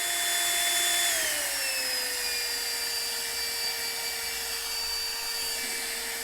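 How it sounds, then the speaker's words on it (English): A Flextail Max Pump 3 portable air pump runs on its low mode, a steady close motor whine and fan hum that drops slightly in pitch early on and then holds constant, no speech. "you just press and hold the P again and it'll turn on to its low mode"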